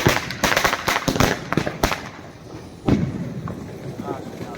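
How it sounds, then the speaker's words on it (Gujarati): Sharp Diwali firecracker bangs burst in a rapid irregular cluster, then one more loud crack after a pause, with excited voices and commotion around them, in Savarkundla, Gujarat. "ફટાકડા ફૂટે આવો"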